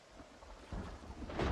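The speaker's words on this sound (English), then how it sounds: "Nothing like washing yourself during a thunderstorm by a giant metal container." A thunderstorm with rain in Project Zomboid, a steady rain hiss with a deep rumble of thunder building and swelling louder toward the end, no voices.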